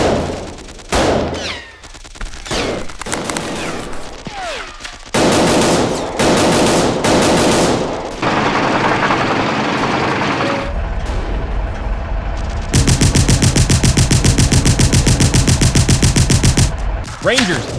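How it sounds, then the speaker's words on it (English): Gunfire and machine gun fire in an Army Men battle, with sharp single shots and shouting voices giving way to long sustained rapid automatic bursts, loud and close. "we're under fire. Self-aid and return fire."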